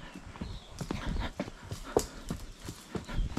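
A horse walks up a steep rocky trail at Kurland Park near Plettenberg Bay, South Africa, with irregular hoof clops on stone, close and moderately loud over outdoor background.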